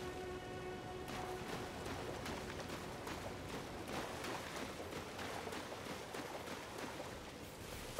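Rain falls steadily in Elden Ring, a soft continuous hiss with scattered drops, faint and even throughout with no voices.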